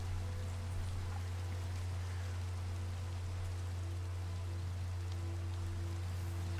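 Steady rain falls in the video game Minecraft, a constant even hiss with a low droning hum underneath, unbroken for the whole stretch and with no one talking.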